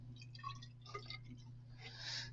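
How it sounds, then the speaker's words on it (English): Liquid is poured into a container in a lab setting, a faint trickling and dripping splash over a steady low electrical hum. "I'm just going to pour an arbitrary amount into here."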